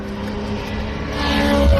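A V8 Supercars race car engine rumbles with a steady low vibration at a test day at Queensland Raceway, growing louder and rougher toward the end as it revs up.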